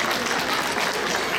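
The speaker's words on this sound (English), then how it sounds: "all the organizers of the Khalsa School do deserve a big round of applause from all of us as well" An audience at a school event applauds the teachers and organizers, a brief, loud, close wash of clapping that stays even from start to finish.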